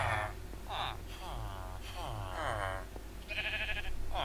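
Sheep bleating in the video game Minecraft, several short nasal bleats spaced apart, heard under someone talking over a low background hum.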